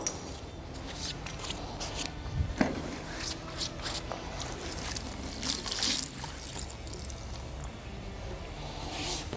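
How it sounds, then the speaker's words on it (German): Water drains out of a hose of a PFT RITMO L plus machine, trickling and splashing steadily, with soft shuffling and squishing noises mixed in throughout, fairly close and moderately quiet. "Wichtig jetzt, das Wasser im Schlauch muss auch wieder raus."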